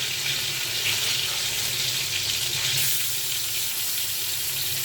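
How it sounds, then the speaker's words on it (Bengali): Koi fish frying in a pan, a dense, loud hiss of spattering oil that sounds almost like running water, continuous and close throughout with no voices. "কই মাছ ভাজি করলে আমি সবসময় এরকম একটু হালকা ভাজি করে নিই।"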